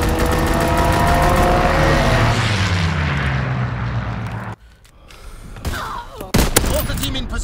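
Aircraft strafing run in the Call of Duty WWII team deathmatch on the Aachen map: a loud sustained engine roar with dense overlapping gunfire, then a sudden drop to near quiet and scattered sharp bursts of shots and impacts.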